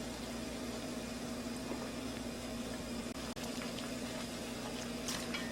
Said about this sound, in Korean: 보글보글 끓여서 차가운 물에 건져서 흔들어 주겠습니다